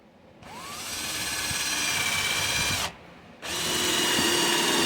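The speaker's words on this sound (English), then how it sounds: "I'm going to keep it simple with my battery powered drill." A battery-powered drill with a countersink bit bores into wood for a patriotic bottle opener. It gives a loud, close, sustained whine that rises as it spins up, stops briefly, then starts again. No one talks.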